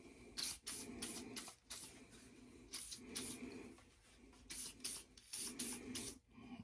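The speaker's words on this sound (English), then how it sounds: "that's why we're spraying it." Hissing bursts of water spray blast mud off a filthy Ruger American .22 Mag rifle, coming in repeated close, uneven pulses with short gaps between them.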